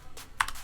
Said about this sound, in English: So we're gonna click over here and type ping